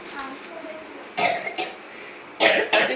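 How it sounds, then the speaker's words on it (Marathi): Coughing in short bursts, about four harsh coughs in two pairs, close by over a faint background hiss during a home snack gathering. "खोकला यायला लागले"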